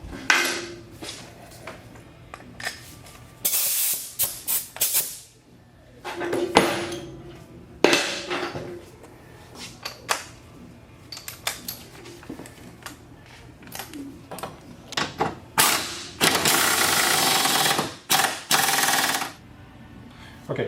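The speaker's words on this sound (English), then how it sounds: "We'll go ahead and take our impact wrench and kind of cinch that up." Bursts of an impact wrench rattle in several short and longer runs while a bolt is cinched on a MINI Cooper rear sway bar and subframe, loud and close, with clanks of tools and metal between bursts.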